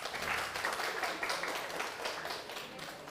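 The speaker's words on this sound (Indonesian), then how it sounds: "Ada boleh minta tepuk tangannya yang dari Buton?" Audience applause at an open mic stand-up comedy show in Indonesia, a dense, steady wash of many hands clapping at moderate distance, sustained for a few seconds with no voices on top.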